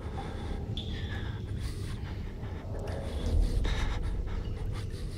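Heavy panting breath from a player character in the horror game Outlast 2, steady and close, rising slightly louder near the end over a low rumbling ambient background.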